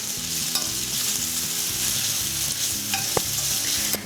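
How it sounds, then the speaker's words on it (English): Onions sautéing in a pan for a spicy okra stir fry, a steady close sizzle with scraping and stirring knocks of a utensil against the pan throughout. "We're going to saute the onions until they are lightly tender and translucent."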